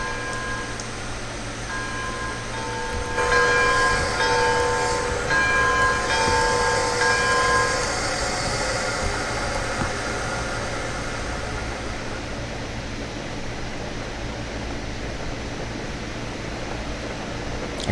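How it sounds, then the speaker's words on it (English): Train in the railroad game Railroads Online rolls along with a steady rumbling drone, while a ringing bell sounds for several seconds in the middle before fading out under continuous motion noise. "Go ahead and stop the bell, slow the train down."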